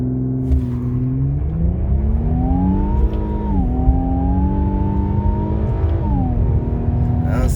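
A 2020 Infiniti Q50 with a twin-turbo 3.0 V6 launches hard from a standstill in a 0-60 run, its engine note loud and close, rising through gears with brief dips at each shift.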